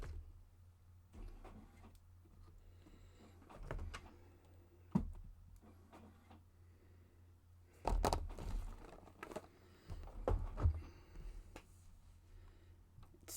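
An inkjet printer works quietly in the background, with whirring motor passes, clicks and mechanical clunks at irregular intervals, louder toward the end.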